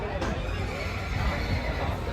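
Horses at a crowded festival horse fair in Anthiyur, Tamil Nadu, held alongside a temple chariot festival, neigh and whinny amid a steady background of crowd babble and nearby hoof movement.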